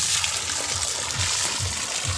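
Irrigation water rushes steadily and continuously into a sugarcane field nearby, a constant gushing flow with no speech.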